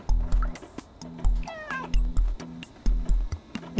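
Repeated meows from a cat in the video game Stray ring out loud and close, rising and falling over a steady rhythmic game soundtrack with short chirpy tones.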